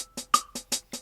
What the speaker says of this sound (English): The first way that RhythmBot can help us is simply by becoming a half-swung metronome